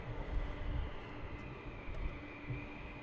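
F-15 fighter jets taxi out for departure at RAF Lakenheath, their engines a steady, distant, low roar and whine that holds fairly level throughout, with no talk over it.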